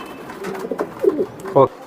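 A Belgian-bloodline racing pigeon, red in colour, coos in a few short low bursts close by, the last call the loudest, with people talking in the background.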